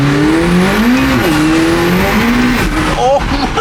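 A McLaren 720S engine revs with rising and falling tones while its tires squeal as the wheels spin, loud and close, with excited voices in the background.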